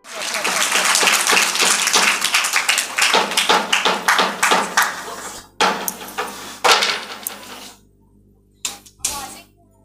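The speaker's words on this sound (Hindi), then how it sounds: "बहुत सारी तालियां।" Loud applause from an audience at a Sunday school children's Christmas drama in a Baptist church, a dense burst of clapping that thins out into scattered claps before fading.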